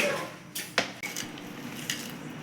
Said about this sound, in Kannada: ಫ್ರೆಂಚ್ ಫ್ರೈಸ್ ಕಟ್ ಮಾಡ್ತಾ ಇದ್ದೀನಿ.